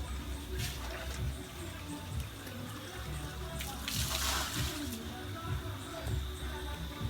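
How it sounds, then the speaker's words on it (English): A freshwater spring at Saint Ann's Bay, Jamaica, bubbles up from the ground with a steady close gurgling and splashing, and people talk over the water. "fresh water spring up from the ground."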